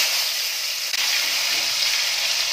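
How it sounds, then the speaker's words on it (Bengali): Chopped tomato hits hot oil with whole garam masala, giving a loud, steady, broad sizzle that holds evenly from start to finish. "এবার এর মধ্যে দিয়ে দিচ্ছি টমেটো কুচি"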